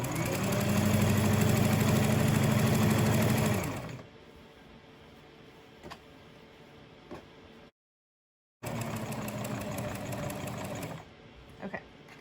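Sewing machine stitching a fleece rat cage mat, a steady fast motor-driven whir for several seconds, then quiet handling clicks and a second run of stitching.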